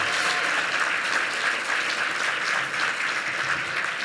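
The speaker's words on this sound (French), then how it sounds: "applaudissez la Coop de l'Arbre" Steady, dense applause from an audience at the 2016 Charlevoix eco-responsibility awards gala during the Festif festival, even and sustained throughout without a break.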